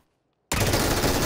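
Sustained automatic gunfire from the battle royale game PUBG bursts in abruptly after half a second of silence, then continues loud and dense without a break.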